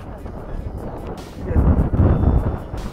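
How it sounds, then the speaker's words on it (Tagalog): Strong wind roars and buffets the microphone in a continuous low rush on the summit of Mount Oberon, Wilsons Promontory, growing heavier and gustier halfway through. "Sobrang mahangin."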